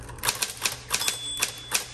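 Typing on a Smith Corona Electra 220 electric typewriter: six sharp, evenly spaced key strikes over a steady low motor hum, close and loud, with no talk.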